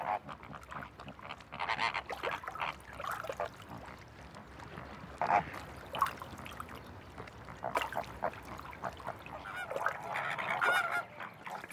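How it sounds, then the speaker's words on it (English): A flock of flamingos out in the spring sunshine gives a busy chorus of honking, goose-like calls, overlapping and rising and falling in bursts at moderate distance without any speech. "Flamingos are very sociable birds."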